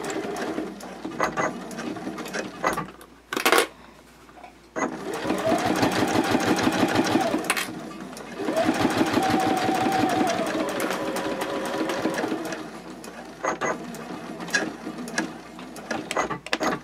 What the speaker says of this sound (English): I'm just going to baste 1/8 of an inch away from the edge here.